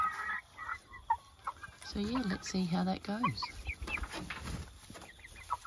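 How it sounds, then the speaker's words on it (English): Roosters clucking and calling in short bursts under a man's speech, with a busy outdoor farmyard background. "Some good looking roosters in there though."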